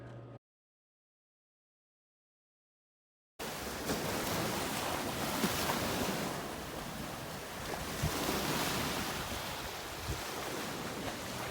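After a few seconds of silence, a broad, continuous wash of ocean waves rolls in at Moalboal, Cebu, Philippines, fairly loud and steady, with wind noise.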